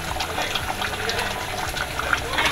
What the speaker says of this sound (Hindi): 4 टेबलस्पून मज़ीद हम इसमें ऑयल डालेंगे